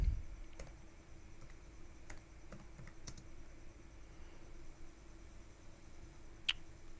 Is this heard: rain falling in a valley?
no